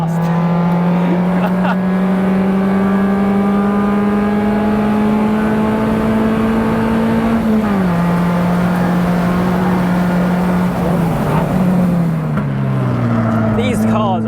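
Small race car engine droning loud and close at a steady pitch, then dropping and shifting as it changes gear, with a voice talking over it.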